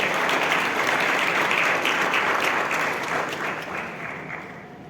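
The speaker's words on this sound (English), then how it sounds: "A round of applause for our chairman." Audience at a memorial lecture applauds the chairman with dense, sustained clapping that holds loud and even throughout, easing slightly toward the end.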